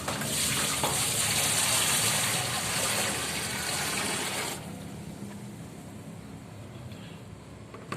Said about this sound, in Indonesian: Baru kita tuangkan air ke dalam.